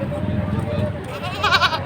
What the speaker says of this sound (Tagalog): Ang lahi po ng kambing na ito ay Anglo-Novian.